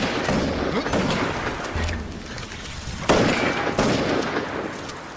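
Bursts of gunfire crack and boom amid a dense, noisy background, with a heavier blast near the middle.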